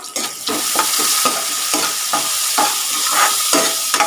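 Sliced onion with salt frying in a pan sizzles loudly and steadily, with a spatula stirring and scraping in a quick, regular rhythm close by, with no voices.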